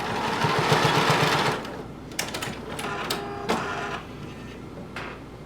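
A sewing machine tacks down a sleeve at the shoulder seam of a homemade top, running in one steady close burst, then stopping for scattered clicks and small handling noises.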